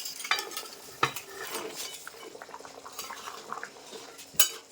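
Fried tilapia pieces going into a simmering potato curry in a pan: a few sharp clinks of a utensil against the pan, soft splashes and light bubbling between, close and fairly quiet.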